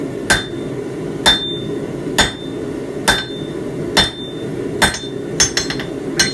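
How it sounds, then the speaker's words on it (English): The flat face of a hammer strikes steel on a blacksmith's forge in a steady, evenly spaced series of sharp metallic blows with ringing clinks, ending in a quicker flurry of lighter taps. "I'm using the flat side of the hammer."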